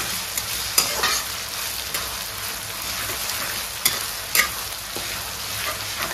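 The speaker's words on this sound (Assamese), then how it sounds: "আদা নহৰুটো কেঁচা গোন্ধ যাবলৈ অকণমান টাইম ভাজিলে হ'ল" Ginger and garlic paste frying in a pan, a continuous close sizzle with occasional sharp scraping strokes of a spatula stirring it.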